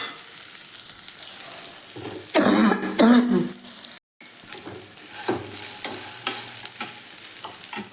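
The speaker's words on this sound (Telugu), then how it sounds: "ఇవన్నీ వేగాక మళ్ళీ అరటికాయ ముక్కలు వేస్తున్నాం." Raw banana pieces fry in oil with cashews, mustard seeds, green chilli and curry leaves, giving a steady close sizzle with stirring scrapes and a louder burst of crackling as the pieces are added.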